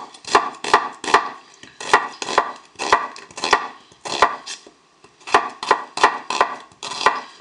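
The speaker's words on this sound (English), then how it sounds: "you're just chopping along the grain of the onion" A knife chops an onion rhythmically on a cutting board, crisp close taps in quick bursts of three or four, separated by short pauses.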